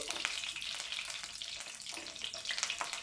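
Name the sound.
garlic frying in oil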